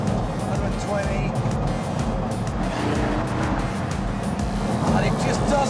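A Pagani Huayra driving at around 120 mph, its engine a steady, loud interior roar with constant rumbling road and wind noise throughout, while someone talks over it.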